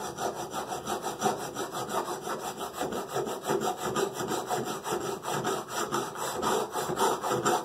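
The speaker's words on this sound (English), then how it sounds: "filing it flat." A hand file scrapes back and forth across a motorcycle torque spacer plate to take it flat, a close, steady rhythmic rasping of quick repeated strokes with no voices.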